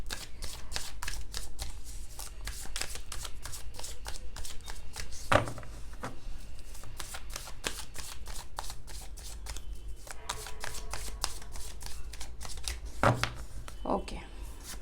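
Tarot cards riffle and slap in rapid, steady bursts throughout, with a few sharper snaps standing out, while someone talks over the shuffling.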